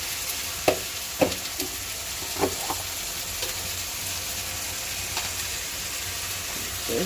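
Ginger paste sizzles and fries steadily in a pan for lunch, a continuous crackling hiss broken by a few sharp spoon knocks and scrapes, close and fairly loud with no talking.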